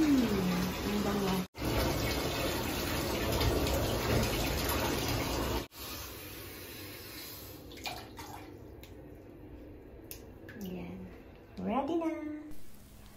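A hotel shower in Asakusa, Tokyo, runs in a loud, steady gushing spray for several seconds, then cuts off abruptly. Quieter handling sounds and a person talking follow.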